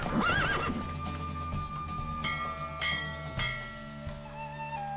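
A horse ridden in The Witcher 3 gives a loud whinny at the start, then a few scattered hoof strikes follow over a steady musical drone, with no voices.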